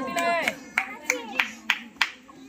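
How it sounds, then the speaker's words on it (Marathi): Audience members at a village Satyanarayan puja gathering clap in a steady rhythm of about six sharp, close hand claps, partly under a voice. "कृपया यासाठी एकदा सर्वांनी टाळ्या वाजवा"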